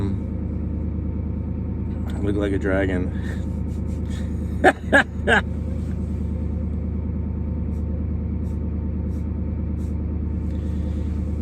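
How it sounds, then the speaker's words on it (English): A parked truck's engine runs, giving a steady low rumble and vibration throughout while a person talks briefly over it. "The truck's vibrating, so it's making the phone fall."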